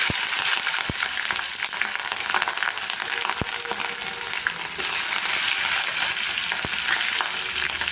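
Ten green chillies splutter in hot oil with urad dal, cumin and fenugreek seeds for a gojju, a dense, steady crackling sizzle with sharp pops scattered throughout, loud and close with no talking.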